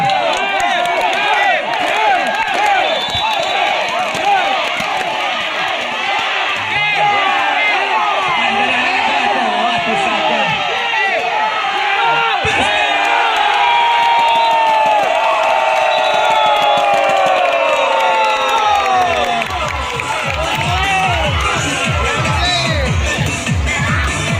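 Supporters roar and cheer throughout a late fourth set of an amateur volleyball cup match at an outdoor court, a loud dense crowd din with whoops and shouts swelling midway and voices calling over it.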